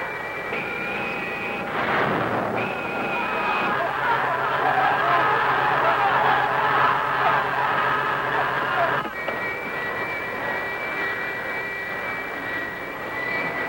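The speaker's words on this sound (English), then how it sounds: "Thrust. I'm turning it up." A spacecraft engine in a science-fiction film throttles up, a dense sustained roar that swells and stays loud for most of the clip, with a steady tonal whine and a low hum beneath, easing slightly near the end.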